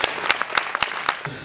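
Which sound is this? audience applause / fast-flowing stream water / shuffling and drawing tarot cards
audience applause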